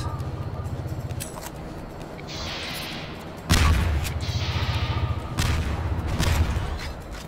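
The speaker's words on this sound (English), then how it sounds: "Impulse grenade." Impulse grenade detonating in the side-scrolling video game Cortex Command: a loud broadband blast hits midway and rumbles on, over steady game background noise and earlier lighter bursts, with no talk.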